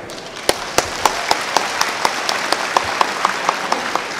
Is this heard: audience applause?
yes